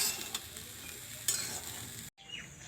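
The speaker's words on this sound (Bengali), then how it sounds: "ছোলা ভাজি করছে।" Chickpeas fry in a pan at home and are stirred, giving a steady close sizzle with a few scraping stirs and a brief cut near the end, with no voices.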